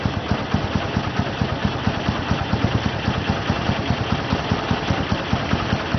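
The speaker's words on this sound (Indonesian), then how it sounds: "Kita 1400 RPM pada putaran stasioner." A vehicle engine idling steadily at 1400 RPM, with even low pulsing firing beats and a constant mechanical hum, close and alone.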